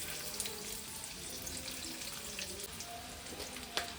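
Chopped onion sizzling in hot oil for a banana-flower vegetable dish, a steady faint crackle and hiss with a sharper pop near the end, no voices.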